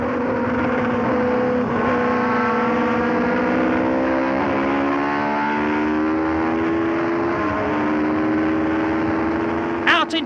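Pironi's Tyrrell Formula 1 car heard from its central onboard camera at Monza, engine wailing loudly with rising pitch through successive gear changes, a sharp brief burst of noise at the very end.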